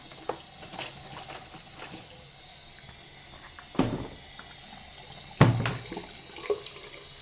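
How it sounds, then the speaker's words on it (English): Tap water runs quietly into a kitchen sink as something is rinsed clean, with a steady low wash broken by a couple of louder splashes and clatters. "You're hearing water, I'm just cleaning it."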